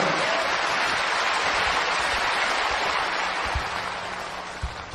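A live audience gives sustained, dense applause for a singer, loud and steady throughout before easing slightly toward the end.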